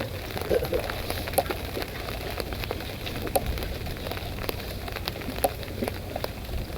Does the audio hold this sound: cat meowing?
no